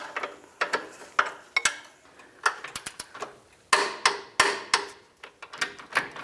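Wrench tightening a 22mm-headed bolt on the front control arm of a 2010-2013 Nissan Versa, giving a series of sharp metallic clicks and ratcheting taps in irregular bursts, close and fairly loud, with no talk.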